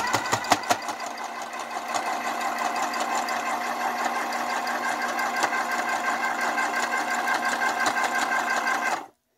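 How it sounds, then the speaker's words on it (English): A sewing machine stitches fabric for a pearl embellishment craft project, starting with a few quick stitches, then running steadily and loudly for several seconds before stopping abruptly. "let's just begin to sew"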